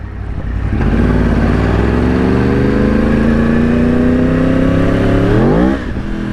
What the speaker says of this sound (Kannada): ಥ್ರಾಟಲ್ ಕೊಡೋಣ ಸ್ನೇಹಿತರೆ.